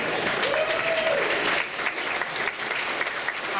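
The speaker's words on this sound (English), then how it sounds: "I really hope you're applauding for Ben and Sirenscape" Banquet audience at a gaming convention applauding, a steady wash of many hands clapping at full strength for a few seconds, then continuing slightly thinner with no voices over it.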